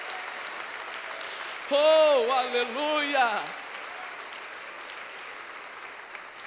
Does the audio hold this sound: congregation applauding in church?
yes